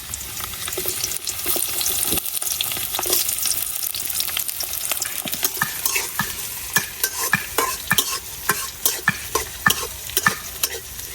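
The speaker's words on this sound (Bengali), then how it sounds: "তেলের মধ্যে দিয়ে দিতেছি পেঁয়াজ রসুন" Onion and garlic fry in hot oil with a steady, close sizzle, while a utensil stirs them in repeated sharp scraping clicks that grow more distinct toward the end.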